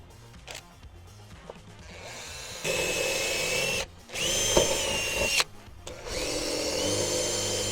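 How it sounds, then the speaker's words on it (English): A power drill bores pilot holes for a carbon fibre splitter on a Mazda MX-5 NC, whining in several bursts that rise in pitch and pause between holes, loud and close with no talk. "Let's get pilot holes."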